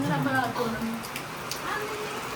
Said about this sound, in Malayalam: ഭയങ്കര മഴ